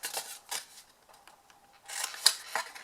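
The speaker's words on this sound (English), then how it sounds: "We're then just going to simply cut away the 4 corners." Scissors snipping away the four corners of a piece of card for a gift box insert, several quiet, quick cuts close by, in a short cluster at the start and another near the end.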